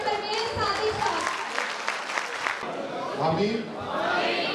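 Audience at a Minority Day program by the Pakistan Muslim League Minority Wing claps for Pervez Sadiq Sahab, the applause mixed with crowd noise and voices throughout the short stretch.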